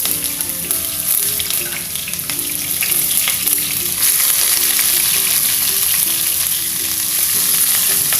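Shallots frying in hot oil and being stirred. A loud, constant sizzling hiss fills the clip, with soft scraping and stirring motions underneath and a faint tonal hum in the background. No one speaks.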